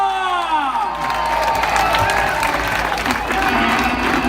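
A festival crowd cheers and applauds loudly for the group's singer from Alboraya, with whoops and shouting over dense steady clapping that continues throughout, and a voice carrying faintly in the din.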